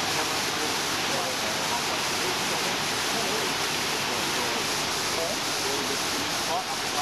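Waterfall in the Kimberley approached by a skippered boat, a steady broadband roaring rush of falling water, loud and unbroken.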